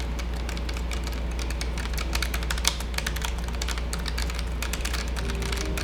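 Fast, steady typing on a Keychron K1 wireless mechanical keyboard with brown tactile switches, a continuous patter of key clicks with no voices.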